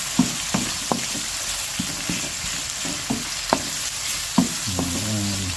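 Food sautés in a pan with a constant bright sizzle, punctuated by sharp clacks and scrapes of a spoon stirring at irregular intervals, close and without speech.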